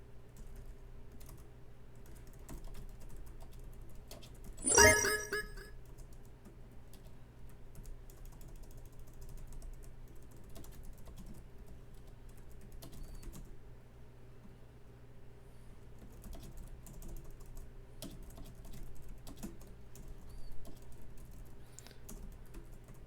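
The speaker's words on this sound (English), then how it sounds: "I think that like typing to the chat to tell them to come play an FFA will work better" A short burst of computer keyboard typing rattles out into the chat during a Red Alert 2 tournament match, quick clustered keystrokes in one dense cluster, then only faint scattered clicks over a steady low hum.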